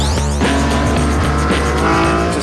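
BMW M3 CSL cornering hard on a track, its engine roaring loud and steady while the tires squeal continuously through the bend, close and intense throughout.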